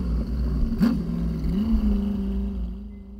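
An off-road vehicle climbs a trail at Area BFE, sped up to double speed, its engine droning steadily with a rising and falling pitch and one brief sharp knock partway through.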